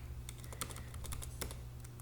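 Rapid typing on a computer keyboard, a quick uneven run of close, crisp key clicks over a low steady hum.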